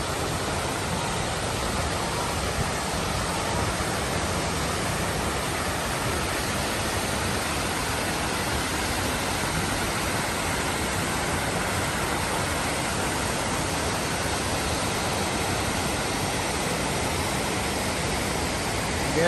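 A waterfall in downtown Greenville gives a steady, broad, hissing roar that holds even and loud from start to finish with no voices.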